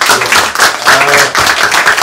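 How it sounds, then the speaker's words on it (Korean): A church congregation claps and applauds during a Sunday service, a dense, loud, continuous patter of many hands close by, with a voice calling out over it. "우리 한번 박수 좀 쳐줍시다."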